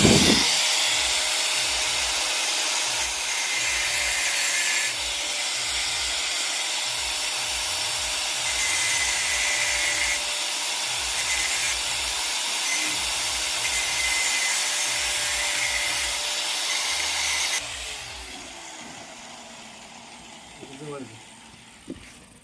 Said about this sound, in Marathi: तर अशा पद्धतीनं जरा ग्राइंडरने इथं घासून घ्यायचं आहे आपण.